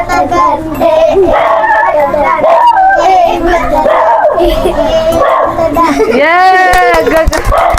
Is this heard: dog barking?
yes